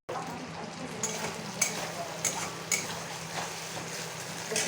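Pointed gourd (potol) fries in hot oil spiced with turmeric, ginger, fennel, green chilli, cashews and whole garam masala, giving a low, steady sizzle with a few light clinks of a utensil against the pan.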